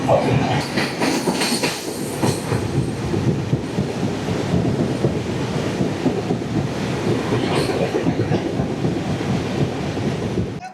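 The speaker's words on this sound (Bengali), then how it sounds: "আমাদের ট্রেন এই মুহূর্তে পার করছে ফারাক্কা জংশন" The Kaziranga Express rumbles steadily through Farakka Junction, heard from on board as a continuous loud roar of wheels and carriages with faint rhythmic rail clatter.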